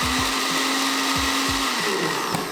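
Blender mixing McDonald's tacos with dough, a loud constant whirring motor with a steady hum and repeated thumps as the contents knock around, no voices.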